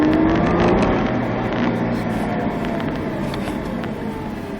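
Nissan Skyline GTR six-cylinder engine droning loudly at steady high revs on the Nogaro race circuit, a continuous near roar easing slightly in level toward the end.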